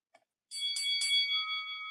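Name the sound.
bell ringing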